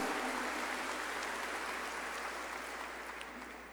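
A congregation at a pilgrimage Mass in San Juan de la Maguana applauds in a steady, distant wash of clapping that slowly fades, with no talking.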